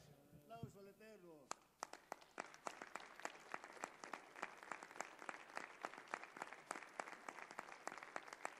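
Audience applause at a church conference, beginning after a brief spoken or sung phrase and continuing as steady, dense clapping with sharp individual claps standing out near the front.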